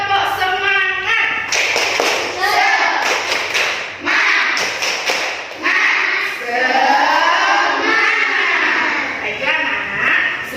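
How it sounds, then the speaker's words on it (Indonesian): A classroom of children performing the 'tepuk semangat' chant, their voices rising together over rhythmic claps and thumps, loud and close, with a teacher's voice among them. "marilah kita untuk tepuk semangat biar anak-anak semakin semangat dalam menjalani pembelajaran pagi hari ini"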